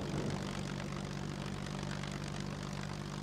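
Propeller airplane in the survival game SCUM rolling to a stop after landing, a steady loud engine drone with low harmonic hum that holds throughout, no talk over it.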